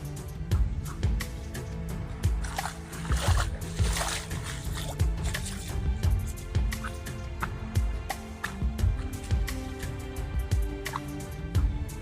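Water babbling and trickling along a forest stream near Balugo Falls outside Tacloban City, a steady close bubbling wash with scattered drips and splashes running continuously, with no voices.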